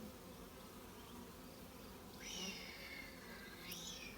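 Honeybees buzz steadily in an opened nuc hive in a mating yard, a soft continuous drone with a few individual bees zipping close past, fairly faint throughout.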